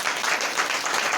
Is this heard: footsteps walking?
no